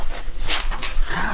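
A Springer Spaniel puppy and a Border Collie in a backyard at a campground give a quick burst of close whimpers and excited panting, loud and busy for a moment.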